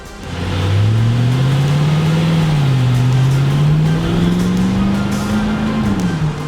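A custom Range Rover Classic with a 6.2 V8 and 6-speed automatic drives close by, its deep engine note steady and loud, rising and falling gently in pitch with a slight dip midway and no talk over it.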